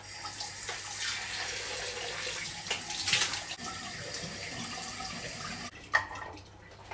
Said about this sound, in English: I can just wash it off.